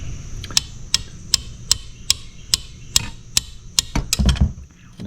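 A hammer taps metal on a Kawasaki KFX 50 ATV, steady taps about twice a second, a dozen or so sharp strikes close by, speeding into a quick cluster near the end.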